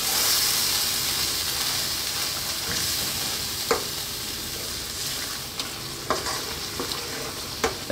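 A bacon mushroom cream sauce sizzles steadily in a pan, a constant close frying hiss broken by occasional sharp scrapes and clicks of stirring.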